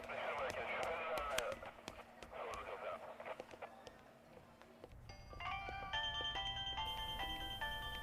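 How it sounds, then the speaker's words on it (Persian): An electronic phone ringtone plays a bright, repeating melodic pattern in the second half, after a stretch of talk and background noise. "خدایا همین زنگ تلفن نمیرسید."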